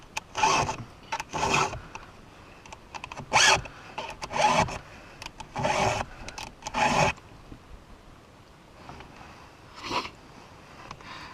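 A Timber Savage file rasps across chainsaw teeth during sharpening, in quick bursts of scraping strokes with short pauses between them, close and fairly loud.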